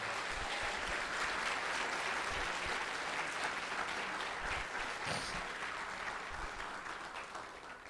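A church congregation applauds together, a dense, steady wash of clapping that slowly fades toward the end.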